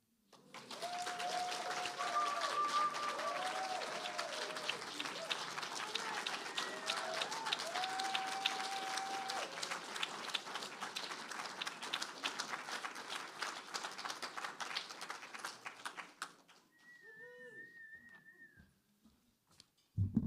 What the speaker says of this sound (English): Can we please have another big round of applause for Andrea Lawlor?